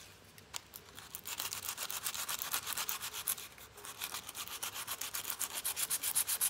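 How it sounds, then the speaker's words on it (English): A wooden knife handle hand sanded with sandpaper after shaping, producing quick rhythmic back-and-forth scratchy strokes that grow slightly louder, close up and with no talk. "we hand sanded a little bit to kind of smooth things out"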